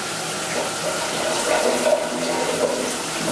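Hotel walk-in shower tap running water as it warms up, a steady close hiss of flowing water splashing down, continuous and fairly loud with no talking.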